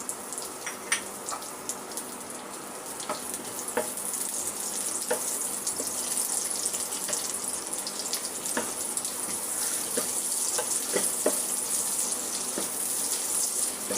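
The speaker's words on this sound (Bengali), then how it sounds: "পেঁয়াজ রসুন কুচুকে লাল লাল করে ভেজে নিতে হবে" Chopped onion and garlic frying in hot oil in a pan, a soft continuous hiss dotted with small scattered pops and crackles, with no voices.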